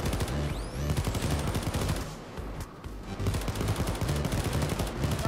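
Dense, continuous gunfire from a Payday 2 heist shootout, rapid automatic bursts overlapping with single shots, loud and close throughout with no talking.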